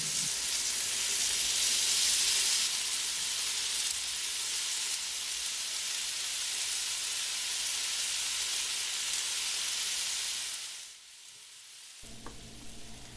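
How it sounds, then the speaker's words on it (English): Adana kebab sizzling on a hot griddle brushed with olive oil, a loud, steady close frying hiss that drops off abruptly near the end before faint kitchen clatter. "begin to cook with this tempting sizzling sound"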